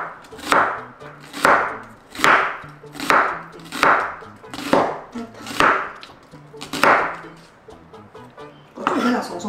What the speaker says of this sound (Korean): 고추 그냥 송송송 해서 아주 얇게